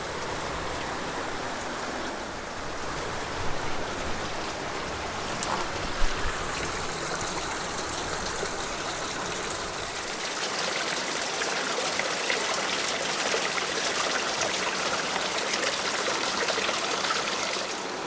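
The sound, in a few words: small waterfall or spring trickling in a canyon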